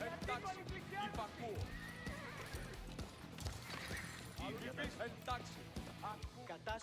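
In Age of Empires IV, horses whinny over and over, with clip-clopping hooves and scattered battle clatter running beneath steady game speech.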